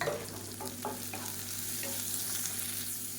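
Sliced large onions frying in a pan with salt, a soft steady sizzle broken by a few scraping stirs early on, close and fairly quiet, with no voices.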